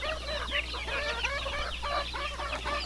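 Flock of chickens and young chicks in a backyard coop, clucking and peeping continuously and fairly close over a steady low hum.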